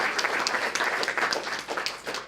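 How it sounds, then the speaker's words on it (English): An audience at a growth hacker talk applauds for a helper, a sustained and fairly close round of many hands clapping that holds steady throughout with no voices over it. "Please give a big round of applause for Justin."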